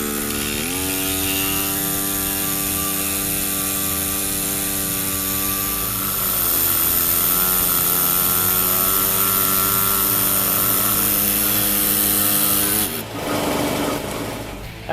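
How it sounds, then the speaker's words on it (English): An air-powered grinder whines at a high, steady pitch while cutting a truck intake, rising slightly midway and then cutting off abruptly near the end, loud and close with no talk. "After a bunch of cutting and grinding, using various tools, you get saws, air saw, oops, my air-powered grinder, other manual saws."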